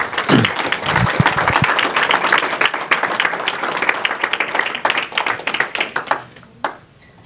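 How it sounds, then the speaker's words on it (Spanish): Church congregation applauding the offerings, a burst of many hands clapping that starts loud, carries on steadily, then thins and fades out near the end. "Ponemos un fuerte aplauso a las ofrendas."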